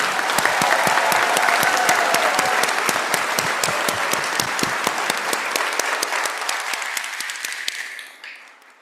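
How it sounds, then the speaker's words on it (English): Audience at a university pharmacy class commencement ceremony gives a sustained, dense round of applause in a large hall, steady and loud before fading out near the end. "let's give one more round of applause for a job well done"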